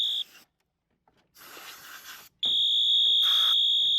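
A loud, piercing electronic fire alarm tone from a Fenwal 2320 suppression panel in general alarm, on high volume, sounds in bursts, cutting off with brief gaps and noise, then holding steady at full volume.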